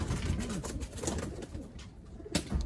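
Pigeons in a loft, several soft low coos rising and falling in short phrases, fairly close, with faint background rustling and a brief sharp knock near the end.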